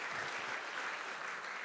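A church congregation at a Sunday worship service applauds, steady dense clapping from many hands in a large room, sustained throughout without a break.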